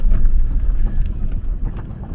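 Hooves clop on the ground as a horse moves nearby, with an irregular, muffled thudding rhythm and some background rustle.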